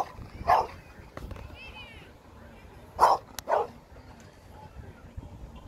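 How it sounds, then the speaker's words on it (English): A dog barks a few times in short, separated bursts, fairly near, with quiet background noise between barks. "She's making my dog bark."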